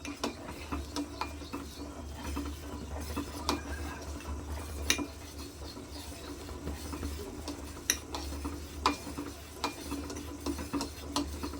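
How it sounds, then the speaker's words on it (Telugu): Ragi flour porridge being stirred in a pot, continuous close scraping and clicking of a spoon against the pot in a rapid uneven rhythm over a low hum, no talk. "రాగి పిండిని దీంట్లో వేసుకుందాం ఇది ఉండలు లేకుండా ఇలా కలుపుకుంటూ ఉండాలి"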